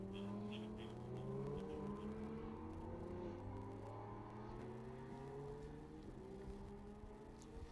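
Ferrari and Lamborghini race cars lapping the circuit during a modern sports car race at Laguna Seca, several engines droning and shifting pitch together at a steady loud level, with no talking.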